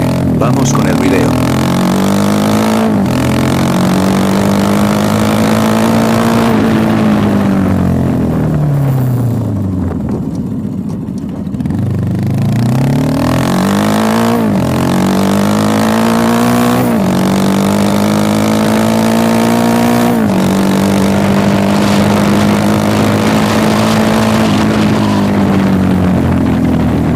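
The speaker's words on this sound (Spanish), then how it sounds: "vamos a escuchar el sonido del escape que se le adaptó a la Pulsar NS" Bajaj Pulsar NS200 motorcycle fitted with a new aftermarket exhaust, revving up and down in repeated swells with a steady rumbling idle between, loud and close throughout, with no talk over it.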